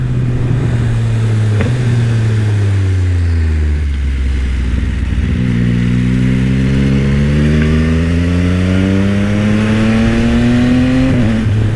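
A Yamaha XSR900 three-cylinder motorcycle engine revs up and down, rising and falling in pitch through several gear changes, loud and close, with a steady roar between revs.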